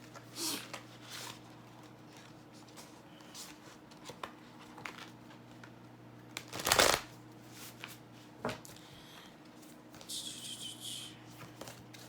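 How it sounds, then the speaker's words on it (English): Oracle cards from a Spirit Animal Oracle deck being shuffled by hand, soft papery riffles and slides coming in short bursts over a low steady hum, with one louder flurry midway and a last run near the end. "So, Leo, I'm going to go ahead and pull you some cards of advice from the Spirit Animal Oracle deck."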